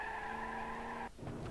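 A Barstow car in BeamNG Drive brakes hard: a steady engine drone cuts out abruptly, followed by a short burst of broadband tire scrub and skidding noise, loud and close.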